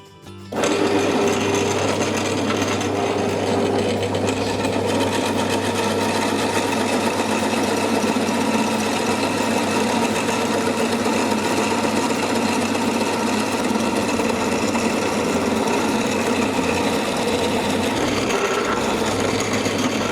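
Parkside PTBM 500 E5 bench pillar drill boring a 35 mm hole through wood, a loud steady motor whine with grinding, rasping cutter noise that starts abruptly and runs continuously for about twenty seconds.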